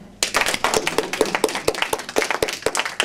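An audience applauds Gilles Rocca on a French variety show, a dense burst of clapping that starts abruptly and holds steady, crisp and close, with no talking over it.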